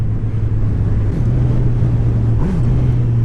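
Engine of a 2018 Honda CB1000R motorcycle pulling in sixth gear at around 50 km/h, a steady low drone that rises briefly twice as throttle is opened, heard close up under heavy wind rush.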